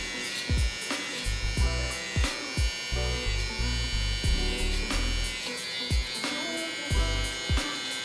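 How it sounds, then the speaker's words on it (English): A Gamma Plus Cyborg electric trimmer shapes sideburns in a barber shop, its steady buzzing hum close to the mic, broken by repeated short bursts of clicking and scraping as the blade touches the skin. "So just shaping up these sideburns, the trimmer is hitting nice and smooth"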